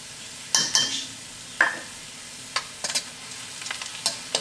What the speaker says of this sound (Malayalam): നമ്മുടെ മഞ്ഞൾപ്പൊടി എണ്ണയിൽ കിടന്ന് നന്നായിട്ടൊന്ന് മുരിഞ്ഞിട്ടുണ്ട്